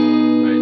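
An electric guitar plays through a fuzz distortion pedal as one loud, sustained, buzzy note that holds steady and then cuts off sharply.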